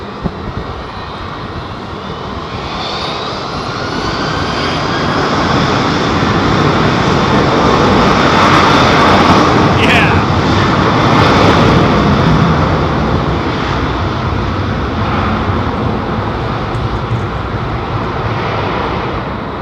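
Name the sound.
airliner jet engines departing London Heathrow Airport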